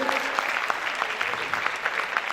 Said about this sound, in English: That deserves a round of applause, doesn't it?